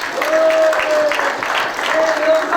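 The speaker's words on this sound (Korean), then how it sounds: "박수 한번 주시기 바랍니다" A concert crowd at a year-end trot concert applauds in a steady, dense wash of clapping that runs the whole time, with a sustained tonal sound faintly over it.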